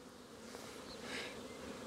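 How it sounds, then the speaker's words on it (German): Honey bees swarm over an opened beehive, making a dense, steady buzz close by, moderately loud and continuous, with one slightly louder swell partway through and no speech. "ich mache mal hier ein Bienenvolk einfach auf die Schnelle geschwind auf"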